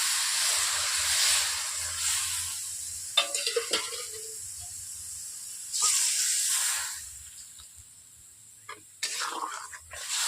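A splash of water goes into a hot pan of cauliflower and egg curry, with sharp hissing bursts that rise and fade in three waves and a few clinks between quieter stretches.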